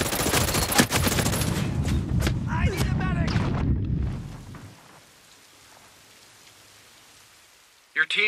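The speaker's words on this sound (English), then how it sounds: "I hear gunfire." Rapid bursts of video game gunfire from Ghost Recon Breakpoint PvP and sharp impacts crackle loudly for a few seconds, then drop to a quiet hiss before one more abrupt burst.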